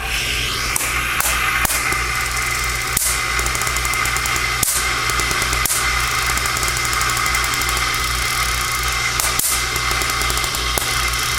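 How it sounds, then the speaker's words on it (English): A Van de Graaff generator runs close by with a steady mechanical drone, punctuated by irregular sharp snaps and clicks throughout. "Here I have a Van de Graaff generator."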